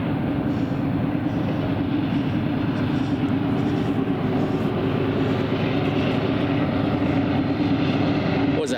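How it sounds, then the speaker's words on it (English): A coal train rumbles past with a steady, heavy low roar and rattling that holds at a constant level throughout. "Sounds like we got a train coming down the tracks."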